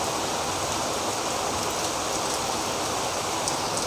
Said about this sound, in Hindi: दोस्तों बारिश काफ़ी आ गई है